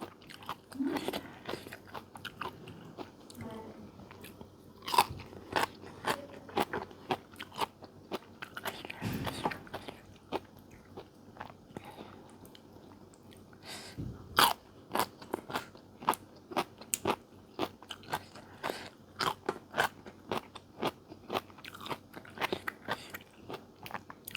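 Close, crisp crunching and biting as someone chews raw giant fiddlehead fern, sharp irregular snaps repeating throughout with wet chewing between and no talk.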